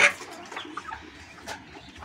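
Laying hens clucking softly close by, with a brief sharper call at the start and a scatter of low clucks through the rest.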